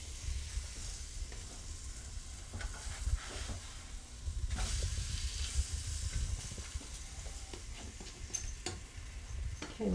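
Fruity flapjack batter with banana cooking in a hot pan, a steady close sizzle and frying hiss with faint ticks and small stirring sounds throughout, no voices.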